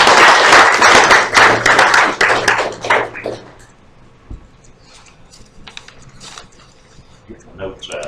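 Applause from a meeting audience greeting a guest speaker at a Sons of Confederate Veterans camp gathering, dense clapping for about four seconds that fades to scattered taps, light thumps and rustling as the room settles.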